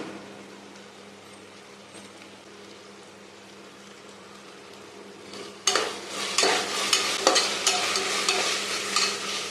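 Ginger garlic paste and green chili stir-fried in a pan while cooking tomato basmati rice, with a low steady simmer that swells into loud, busy sizzling and scraping stirs partway through.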